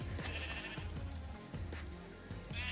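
Sheep bleating in the Minecraft video game, several short bleats over a low steady background hum, fairly quiet.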